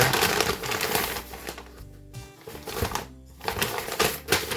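Paper envelopes from a Brick Link parcel, nested one inside another, are handled and torn open up close, producing loud crinkling and rustling bursts with a brief quieter lull midway.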